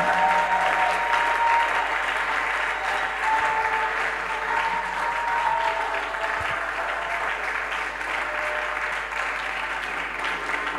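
Church congregation applauding during a worship service, sustained loud clapping from a large crowd filling the room, steady and continuous throughout.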